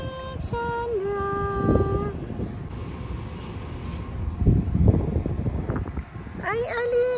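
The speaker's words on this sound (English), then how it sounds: "It's just too windy down here." Gusts of wind rumble and buffet the microphone in bursts, while voices speak intermittently over the blustery noise.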